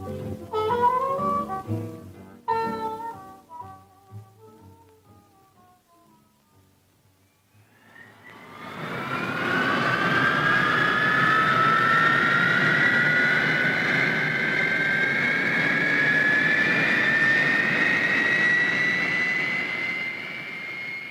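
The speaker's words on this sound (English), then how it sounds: "The Hawker Hunter single-seater interceptor is starting up." A Hawker Hunter jet fighter with a single Rolls-Royce Avon engine starts up. Its whine rises and swells into a loud, sustained roar with a slowly climbing high-pitched tone, coming after a few seconds of music that fades out.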